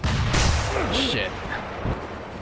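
Sniper gunfire in Sekiro, with loud booming shots at the start and a shorter report near the end, mixed with a voice speaking over it.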